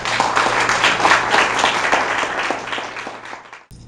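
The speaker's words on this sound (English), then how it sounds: "I would like to just give an applause for Miss Jessica Munnings." An audience at an appreciation evening applauds with a thick, sustained roll of clapping that fades over a few seconds before stopping abruptly.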